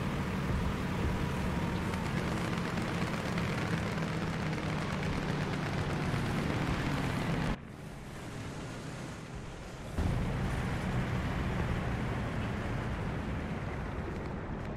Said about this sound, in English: My artillery working there.